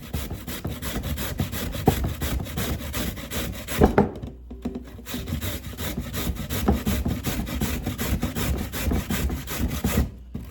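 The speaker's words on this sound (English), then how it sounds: "You're going to use the medium-sized part of the grater and grate it." Sweet potato is scraped quickly over the medium holes of a hand grater, a loud, dense run of rapid rasping strokes that briefly stops twice before carrying on, with no talking.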